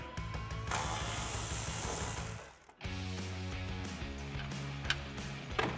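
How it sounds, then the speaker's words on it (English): A ratchet with a 10 millimeter socket removes bolts on a 2009-2014 Ford F-150 grille area, producing a continuous close rapid clicking and ratcheting that briefly pauses near the middle, then resumes, with no talking. "we'll just go ahead and take those out with our 10 millimeter socket"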